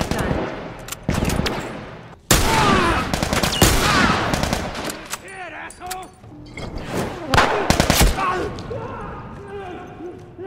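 Repeated gunfire in The Last of Us, loud bursts and single shots scattered across the scene with sharp broadband cracks, mixed with game sounds and a person talking over the action.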